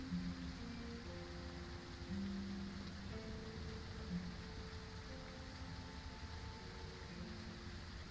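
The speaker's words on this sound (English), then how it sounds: "It's getting drowned by the rain a little bit" Steady rain falls in the Surroundead video game as a continuous, even hiss with faint tonal music beneath, fairly quiet and unbroken, no voices.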